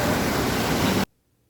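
Bhatta Falls near Mussoorie roars as a dense, steady rush of falling water, loud and close, then cuts off abruptly to silence after about a second.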